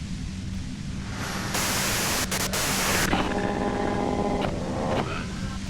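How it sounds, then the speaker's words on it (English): Radio static in Disco Elysium, a loud, steady hiss of white noise that swells and shifts in tone partway through, with no clear talk. "you can do it through the white noise."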